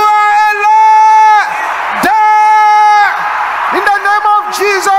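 A church congregation at a fiery prayer service shouts and roars in sustained bursts, loud massed voices rising and breaking off several times, with strong sung-like tones running through the swells.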